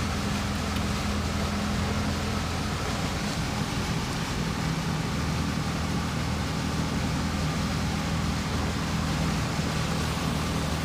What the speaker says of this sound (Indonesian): Air sangat deras, membahayakan bagi pengendara motor.